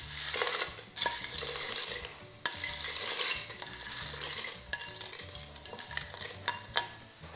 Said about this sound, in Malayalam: ഇനി നമ്മുടെ പപ്പടം ഇതിലേക്ക് ഇട്ട് കൊടുക്കാം.